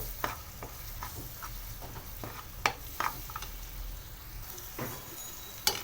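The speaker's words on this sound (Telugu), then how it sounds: "అల్లం కొంచెం ఆయిల్లో ఫ్రై అయ్యే వరకు ఇలా కొంచెం అయితే కలపండి." Ginger paste sizzling in hot oil in a kadai while being stirred, a soft steady frying hiss broken by intermittent scraping and clinking stirs, close and fairly quiet with no talk.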